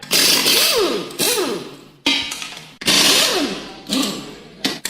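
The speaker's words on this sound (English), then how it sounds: "We have our angle grinder. Make sure you put some goggles on. Now it's time to cut it." An angle grinder cutting through a plastic bumper on a 2018 Subaru Impreza, loud close whining bursts that rise and fall in pitch as the disc bites, separated by brief pauses.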